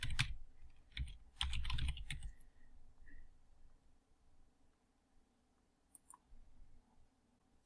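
Typing on a computer keyboard, a quick flurry of close key clicks in two bursts at the start, then quieter scattered taps over a faint background hum.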